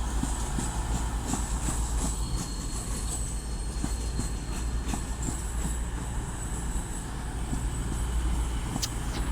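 A Class 222 diesel train, unit 222-011, rolls into Sheffield station with a steady low rumble, rhythmic wheel clicks over rail joints and faint squeals, close and continuous throughout.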